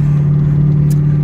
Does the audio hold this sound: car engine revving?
yes